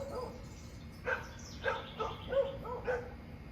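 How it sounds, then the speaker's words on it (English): Pet dog in a home barking to other neighborhood dogs, a series of about five separate yips and barks spaced roughly half a second apart, moderately near and not very loud. "My dog is saying hello to some other dogs in the neighborhood."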